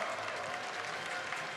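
Steady applause from an audience at the 2015 BlizzCon World Championship quarterfinal, a continuous wash of clapping heard at a moderate distance.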